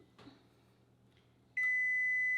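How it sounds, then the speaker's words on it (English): Kitchen appliance sounding a single clear sustained beep near the end, after a few soft clicks in a quiet room. "It's going to beep a couple of times."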